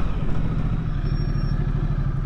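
2020 Ducati Multistrada 1260 S Grand Tour motorcycle engine running close by, a loud, steady, throbbing pulse with rapid regular firing beats and no break across the short stretch.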